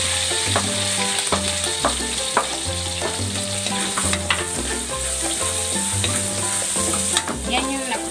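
Garlic sizzles and crackles in a hot pan coated with sticky marinade residue while cooking chicken pork adobo, a loud, continuous frying hiss broken by stirring scrapes and clatters.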